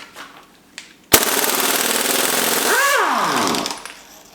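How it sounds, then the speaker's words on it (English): A pneumatic impact wrench rated at 700 pound-feet, run off an air compressor, hammers loudly at a bolt on a blown Mazdaspeed3 MZR engine during teardown: one sustained rattling burst of about two and a half seconds, then a short spin-down. "So we're going to try with the impact here. It's got 700 pound-feet of torque."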